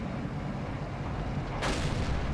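A single tank cannon shot from a T20 medium tank in the World of Tanks video game: one sudden loud blast cutting through a constant low, heavy rumble of engine and battlefield noise.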